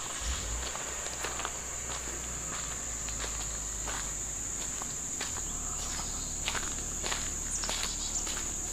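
Soft footsteps crunch along a garden path in the Smoky Mountains, irregular and fairly close, under a constant high chorus of crickets and insects.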